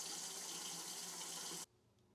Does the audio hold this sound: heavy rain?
no